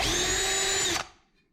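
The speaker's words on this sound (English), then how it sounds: "figure out where you're going to drill the grommet holes and the 4AN line holes through." A power drill drilling holes in metal on a Lexus GS400 whines loudly at steady speed and then stops abruptly, its motor winding down into a faint fading hum.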